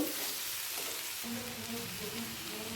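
Potatoes, tomatoes and green chillies frying in a pan for a vegetarian paneer and potato curry: a steady, close sizzle with soft stirring scrapes and no talk.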